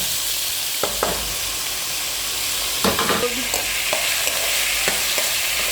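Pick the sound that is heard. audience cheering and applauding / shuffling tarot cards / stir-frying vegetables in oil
stir-frying vegetables in oil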